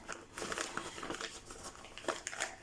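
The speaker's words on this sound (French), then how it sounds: "On va tout de suite ouvrir ce joli paquet." A cross-stitch kit package is opened, its plastic wrapping crinkling and rustling continuously at close range, fairly quiet, with no voice.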